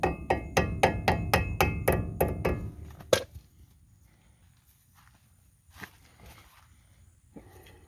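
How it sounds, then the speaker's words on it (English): Eight or nine sharp, evenly spaced mallet strikes tapping a cap into place during brake work on a 1978 Chevrolet C10 truck, loud and close, ending in a final harder hit followed by quiet rustling. "Grab my mallet and tap that on."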